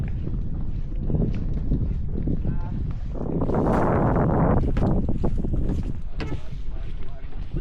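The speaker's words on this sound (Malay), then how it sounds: "Mari guys, bot sudah sampai." A boat pulls in at a floating fish farm in Teluk Bayu, engine rumble and water wash mixed with wind buffeting the microphone, with people talking over it.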